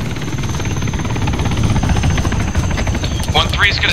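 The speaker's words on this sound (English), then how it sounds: "That's a hind. That's a hind." A Hind attack helicopter in ARMA 3 thrums loudly and continuously, with radio chatter and voices faint underneath and a short burst of chirpy noise near the end.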